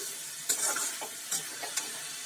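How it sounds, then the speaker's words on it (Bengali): Boiled potato and cabbage curry stirred in a pan, a soft close sizzle broken by several scrapes and clatters of a spoon, without talking. "এবার একটু নেড়ে নিচ্ছি। আমার আলু বাঁধাকপি সেদ্ধ হয়ে গেছে।"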